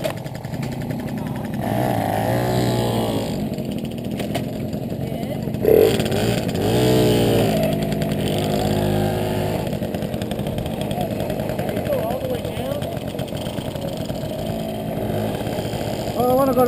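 A Tomos moped engine drones steadily while ridden along Miette Road in Jasper National Park, with rising and falling revs and constant wind rumble as riders talk over it.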